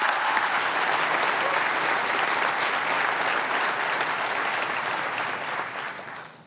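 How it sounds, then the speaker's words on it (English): Sustained applause from an awards ceremony audience, a dense even roar of clapping that holds steady before tapering off at the end, with no talking over it. "I think she also deserves another round of applause."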